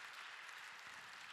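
A church congregation gives thanks with applause for two worship singers, a faint, steady patter of clapping heard from a distance without any talk.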